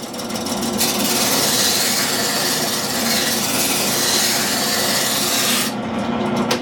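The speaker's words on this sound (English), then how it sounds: "I've got it set up in sanding mode. I've got this sanding drum on here." A Harbor Freight 10-inch benchtop drill press fitted with a sanding drum grinds against wood, giving a steady, loud rasping rub with a motor hum underneath that continues without a break before easing slightly at the end.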